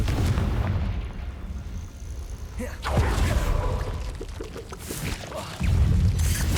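Confringo fire spells cast in the Hogwarts Legacy video game, booming blasts with a sharp burst near three seconds and another near five and a half, among dense game effects and rumbling.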